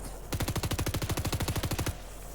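Rapid burst of automatic gunfire in the Fortnite video game, about twenty evenly spaced shots in quick rhythm, close and fairly loud, standing alone with no talk.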